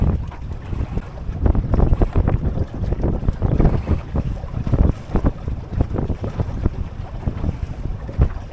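Wind gusts buffet a sailboat on choppy water, roaring in loud, uneven bursts of microphone-blasting noise with waves washing underneath, and no voices.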